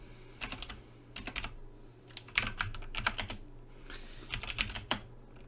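Bursts of rapid keystrokes on a computer keyboard while a mkdir command is entered in PowerShell, clattering in quick clusters separated by short pauses, close and fairly quiet with no talking.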